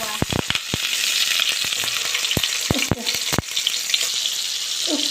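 Chicken kofta frying in oil and ghee in a pan, a steady close sizzle filling the whole stretch, with several sharp spatters and light knocks of turning the pieces scattered through it.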